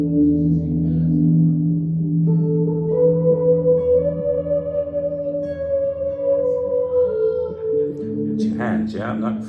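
An electric guitar played through a Fender Mustang Micro Plus amp with slow gear and chorus effects, sustained swelling notes gliding smoothly, with a brief burst of speech at the end.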